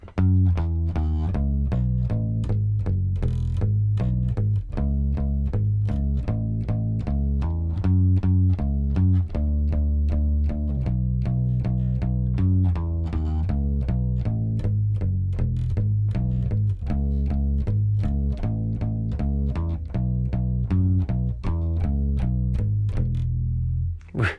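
An electric bass plays a flowing melodic verse line from a song, round low notes moving steadily with slides and fills, loud and close with no other instruments.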